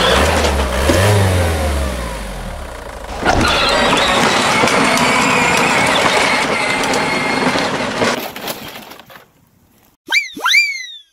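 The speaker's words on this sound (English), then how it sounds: "We get to drive the Blippi mobile." A Blippi mobile car's engine revs hard and loud for about eight seconds with a roaring, rumbling drive, then drops away, followed by a few quick high chirping whistles.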